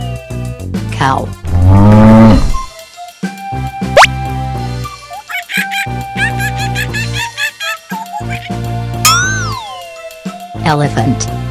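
A cow moos in a children's animal toy ride-on sequence, with a long, drawn-out low call standing out among other playful animal sounds and a voice speaking nearby.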